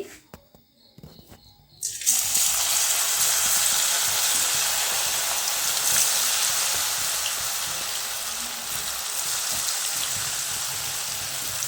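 Tender jackfruit pieces drop into hot coconut oil for deep frying, setting off a sudden loud hiss after a quiet start that settles into a dense, steady, rain-like sizzle.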